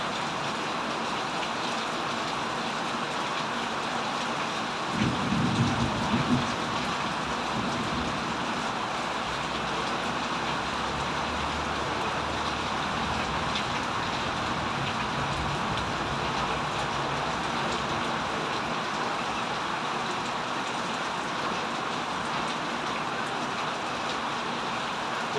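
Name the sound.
heavy rain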